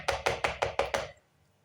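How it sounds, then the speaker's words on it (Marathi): A plate of batter is tapped on a surface six times in a quick, even rhythm, each knock close and distinct, then silence. "आता आपण याला असं टॅप करून घेऊ."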